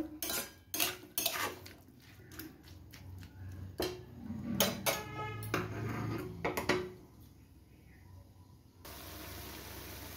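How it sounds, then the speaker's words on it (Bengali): Tomatoes with salt and turmeric stir-fried in a pan, with a spoon scraping and clattering against the metal in irregular bursts, interspersed with a low sizzle throughout. "এবার এটাকে ধরে ধরে বেশ কিছুক্ষণ আমি কষাবো।"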